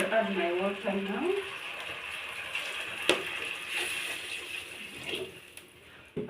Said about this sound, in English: I'll add my water now.